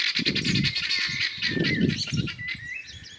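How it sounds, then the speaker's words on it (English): Guinea fowl calling on a Scottish steading, a continuous chorus of harsh, rapid chattering cries from several birds close by, with no one talking. "see if we can see the guinea fowl."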